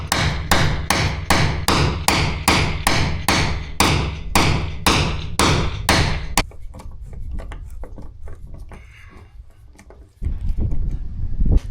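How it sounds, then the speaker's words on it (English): Hammer blows on an impact driver bit set in big, stubborn wood screws on an old 14ft plant trailer: about a dozen loud, evenly spaced metallic strikes, then quieter scraping and handling, and a final knock. "you put a bit into it and then you put it onto it and you hit it with a hammer"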